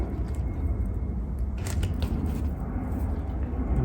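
Pruning shears snip through a small pine bonsai branch, a brief crisp cut with a faint creak, close by over steady low background noise.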